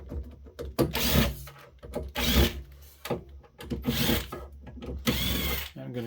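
A powered driver removes many screws from the metal cover of a vintage Promise Technology VTrak E610f storage controller, short whirring bursts repeating in a steady rhythm, each followed by a brief pause.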